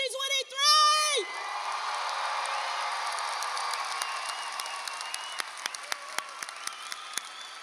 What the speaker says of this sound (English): let's give a roaring round of applause for the sensational, dynamic, remarkable class of